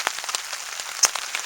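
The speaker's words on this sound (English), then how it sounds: "Sitting in here, staying out of the rain." Rain falling outside a shelter, a soft scattered pattering of individual drops ticking at irregular intervals, close and fairly faint, with no talk.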